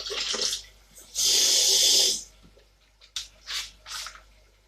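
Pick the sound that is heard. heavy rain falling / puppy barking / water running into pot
water running into pot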